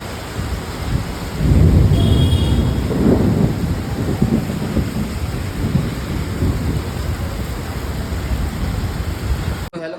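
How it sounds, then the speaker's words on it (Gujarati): A heavy rainstorm hisses steadily as a deep rumble of thunder rolls in early and fades slowly, with no voices heard. "જો વીજળી પડાયા."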